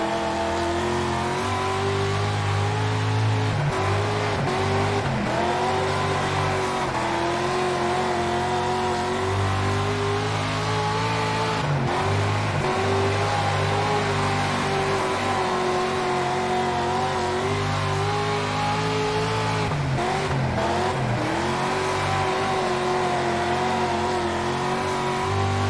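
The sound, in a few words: dirt race car engine driving a lap, from video game World of Outlaws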